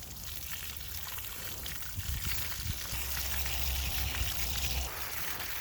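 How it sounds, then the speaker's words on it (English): Water sprays and splashes steadily through a K&N drop-in air filter from a 2015 Subaru WRX, rinsed from the clean side out to flush old red oil, a continuous close pouring wash that swells a little partway through. "I'm gonna go ahead and give this a wash off. And from the clean side out"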